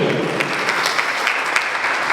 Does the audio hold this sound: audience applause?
yes